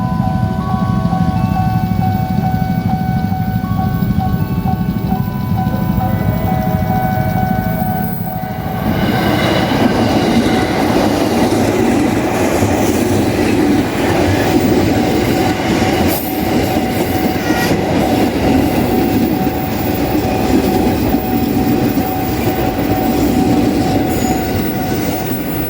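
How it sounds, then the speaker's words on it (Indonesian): A KRL Commuter Line electric train rumbles steadily past a level crossing near Pondok Rajeg station at close range, wheels clattering and squealing over the rails for a long, continuous stretch. "sudah siap nih menyambut kedatangan dari KRL arah Nambo menuju Jakarta Kota"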